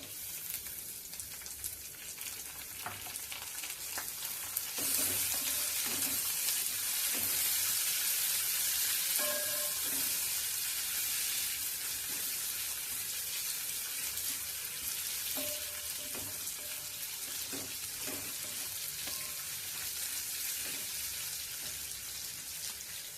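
Raisins sizzling in hot oil in a pan while basanti pulao is cooked, a steady crackling fry with a few soft stirring clicks, fairly close and without talk.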